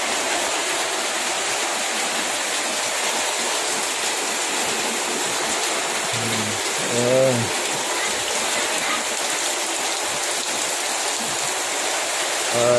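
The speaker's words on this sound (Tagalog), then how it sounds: "Nilawas na ang tubig sa kanal." Steady rushing water fills the scene, a broad continuous flow of a street canal overflowing during a typhoon, with a brief voice rising above it midway.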